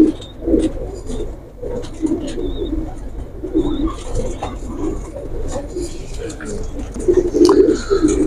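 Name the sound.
pigeon cooing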